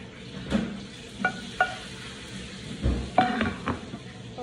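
Cauliflower sizzles in sauce in a pan while being stirred, with a few short clinks and scrapes of a utensil over a soft, steady frying hiss.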